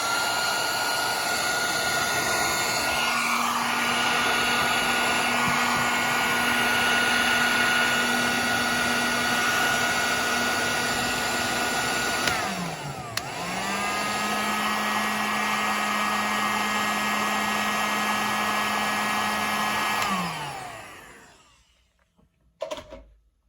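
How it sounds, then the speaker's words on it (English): A heat gun blowing hot air to melt solder inside wire connectors during a car stereo install in an S197 Mustang, a loud steady whirring hum that dips briefly midway and then cuts off. "Then you hit it up with a heat gun, and it melts the solder in the middle"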